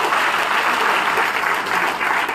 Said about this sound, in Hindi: धरने पे तो जोरदार ताली हो जाते हैं।